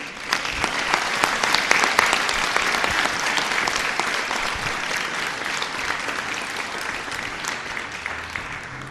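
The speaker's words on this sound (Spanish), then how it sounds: "que les da este aplauso de bienvenida" Church congregation giving a welcoming round of applause, sustained dense clapping for nearly nine seconds, loud and even with sharp individual claps standing out, no speech over it.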